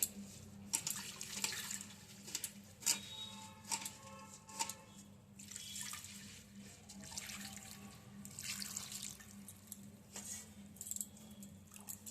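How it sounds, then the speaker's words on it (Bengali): Water splashes and trickles through a strainer as cumin seeds are rinsed by hand under running water, with soft clinks and rattles against the metal. The sound is close and steady, with no speech. "এবার এই ছাগনিটাতেও আমি একটু জল দিয়ে এভাবে ধুয়ে নিচ্ছি"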